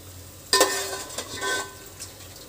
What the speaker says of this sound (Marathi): त्याच्यामध्ये आपण हे मटण टाकूया.